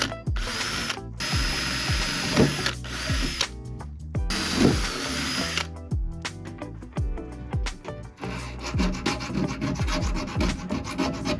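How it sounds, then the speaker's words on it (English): Power drill bursts whirring and grinding through hard perspex sheet, starting and stopping repeatedly with ratcheting pitch changes, close up with no talking. "began the task of drilling all the holes that I'd need for both the case and the perspex"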